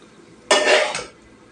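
A single bright metallic clatter of a spoon against dishes, lasting about half a second and ringing off quickly, close by and alone with no talk.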